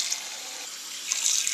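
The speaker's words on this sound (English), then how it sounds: "I'll just fill these jars up with water" A kitchen tap runs water steadily into glass jars, a continuous bright hissing rush that grows a little louder toward the end, close by and with no voices.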